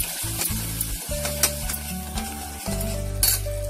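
Ground masala paste sizzling steadily in a pan for paneer masala while a spoon stirs and scrapes at an uneven rhythm, close and clear with no talking.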